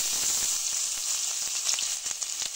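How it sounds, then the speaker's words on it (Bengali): A ginger, garlic, cumin and onion paste fries in hot oil, giving a steady, dense sizzle with crackling pops throughout, close and fairly loud. "এবারে দিয়ে দেব আদা, রসুন, জিরা, পেঁয়াজ একসঙ্গে বাটা,"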